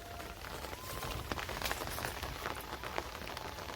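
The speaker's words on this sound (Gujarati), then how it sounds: "આજે વરસાદ ચાલુ થઈ ગયું છે" Steady rain falls across a cotton field where soaked, fallen cotton bolls lie on the ground, giving a continuous close patter with scattered sharper drops and no voices.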